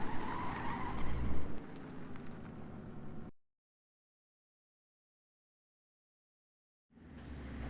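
Armored vehicle braking and skidding in the video game Squad, a rumbling engine with a scraping skid for about three seconds, silence, then the engine and skid returning, close and moderately loud.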